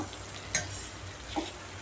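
Soft stirring and faint sizzling from a pan as ingredients for rasam are sautéed, with a couple of brief scraping clicks over a low steady hum.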